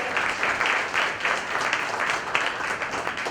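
An audience at a Marathi-language pride event in a Mumbai suburb applauds for Sugam Kulkarni, a sustained, dense round of clapping that swells and dips but never stops.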